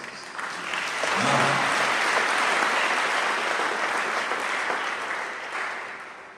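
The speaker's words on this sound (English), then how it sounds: "You can open your eyes and clap for yourselves." Sustained applause from an audience at a motivational talk, a dense wash of clapping that swells after the first second and holds steadily loud before easing slightly at the end, with a brief spoken word at the start.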